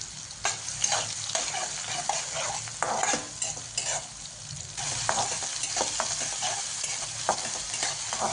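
Cut onion frying in hot oil with cumin and mustard seeds, a steady close sizzle with intermittent scraping stirs and small crackles throughout, no voices.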